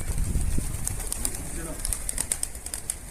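A stray pigeon around a rooftop, heard as faint bird sounds and light fluttering against outdoor background noise, with low voices nearby.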